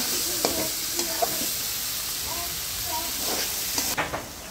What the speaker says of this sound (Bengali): এই যে আমি একটু কষাই নেব সবজিটা